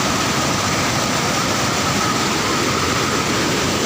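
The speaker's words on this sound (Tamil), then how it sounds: "எல்லாம் மழை பெஞ்சு டேம் நம்பி லீக் ஆகிற தண்ணி இதெல்லாம்." Rainwater pours over the Kallinmudiville waterfall, a dense, steady, loud roar of rushing water filling the whole span with no breaks.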